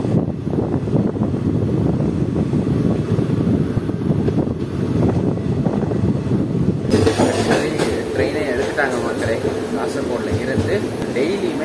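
The Parasuram Express from Mangaluru Central to Nagercoil rumbles along steadily from inside a carriage, with continuous wheel noise and clatter and voices faintly mixed in.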